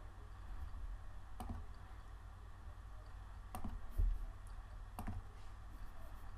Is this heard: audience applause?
no